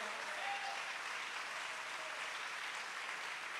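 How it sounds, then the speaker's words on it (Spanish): A church congregation claps together at a sermon, a steady dense wash of applause that holds evenly from start to finish with no voices rising above it. "¿Cuántos pueden aplaudir el nombre del Señor?"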